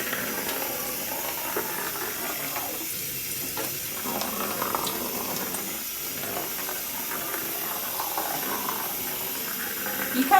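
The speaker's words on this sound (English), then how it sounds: "if your paper's not too big, you can just run it under the tap" Paper being run under a running tap for stretching, a steady hiss of water flowing with faint shifting splashes as the sheet passes through the stream.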